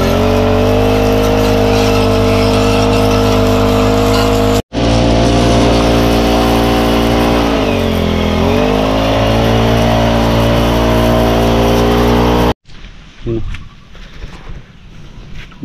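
A power sprayer engine on a farm runs loud and steady at close range, its drone dipping briefly midway and cutting out near the end, with a voice speaking over it.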